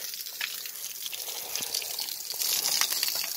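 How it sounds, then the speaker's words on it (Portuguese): Water from an outdoor tap in a leisure area of a house in the Amazon jungle, running in a steady, fairly forceful hissing stream that grows slightly louder near the end, close to the microphone with no talk. "Se abre a torneira aqui, ó."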